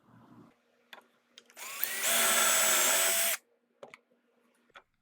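A power drill bores dowel holes in wood for a custom powder room vanity, one steady whirring run of about a second and a half, close and loud, framed by a few light knocks and clicks.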